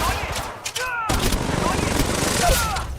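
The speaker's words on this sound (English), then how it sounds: "Firing. There is another squad. They are attacking." Rapid bursts of gunfire from a mobile shooter game played on a Poco X3 Pro phone, steady and fairly loud throughout, with a brief drop near the one-second mark and an in-game voice speaking over the shooting.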